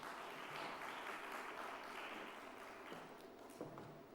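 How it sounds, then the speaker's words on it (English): Applause from a conference audience at a regional sustainable energy event, heard as a quiet, even wash of clapping from a crowd at some distance. "you must clap for these women"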